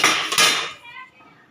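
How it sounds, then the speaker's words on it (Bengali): A metal plate used as a lid is lifted off koi fish steamed in banana leaf, a quick clattering scrape of metal on metal that rings briefly and fades, close and fairly loud. "মাছের ঢাকাটা খুলে দেখবো আমার মাছটা কতটা কমপ্লিট।"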